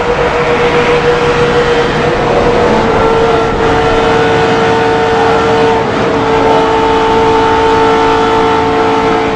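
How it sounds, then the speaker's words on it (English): A loud NASCAR race car engine roars at high revs from inside the car, steady and droning with shifting pitch and no talking. "Let's listen to Junior's onboard"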